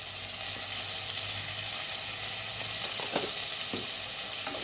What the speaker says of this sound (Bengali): এরপরে আমি এর মধ্যে আলুটা ভাজছি